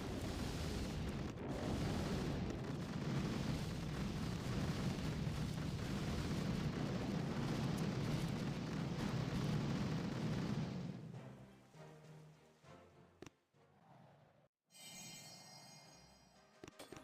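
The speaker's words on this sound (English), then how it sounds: "that cryo bomb hit all of the bombardiers basically" Cryo bomb blasts in the mobile strategy game Boom Beach hit a group of bombardiers: a sustained, loud rumbling barrage of booms and bursts for about ten seconds, then dropping to quieter scattered game effects and clicks.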